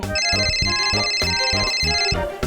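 A voice mimics a telephone ringing, repeating a warbling ring in quick pulses, loud and close, with no other talk.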